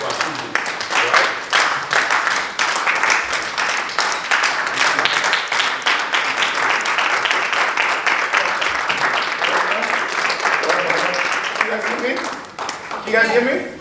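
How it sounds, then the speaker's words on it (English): A standing audience at a skincare company launch event claps and cheers loudly and steadily for about twelve seconds, with shouts and voices mixed into the clapping before it thins out near the end. "So with a standing ovation, with your hands clapping"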